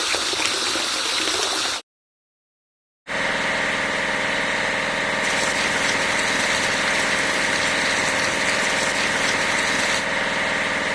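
A road roller's engine idles in a vehicle-washing video game, a steady mid-pitched diesel rumble with a hissy wash layered over it, broken by a brief gap of silence and then resuming, with no talking.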